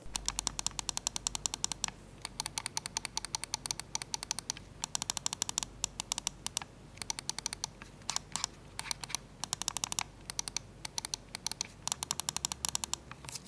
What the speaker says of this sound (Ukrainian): Клік короткий і чіткий, ніякого пре або пост-тревелу.